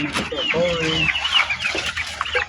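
Several chickens cluck and squawk nearby in quick, overlapping bursts, with a faint voice in the background.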